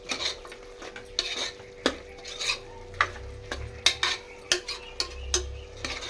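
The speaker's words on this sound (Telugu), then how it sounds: "ఇప్పుడు మనం దీంట్లో అల్లం వెల్లుల్లిని యాడ్ చేద్దాం ఇప్పుడు అల్లం వెల్లుల్లి పచ్చివాసన పోయేదాకా మగ్గించుకుందాం" A spoon stirs and scrapes ginger garlic paste in a pan for mutton curry, giving steady, rhythmic clinks and scrapes over a faint sizzle, close and moderately quiet, with no talking.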